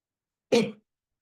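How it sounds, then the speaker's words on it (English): A single short, sharp cough bursts out of silence, close and clear, then stops. "I really hate my stupid cough."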